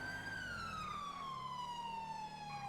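A police car siren in the GTA V video game, a steady electronic wail sweeping slowly downward over a low engine rumble, loud and continuous with no talking.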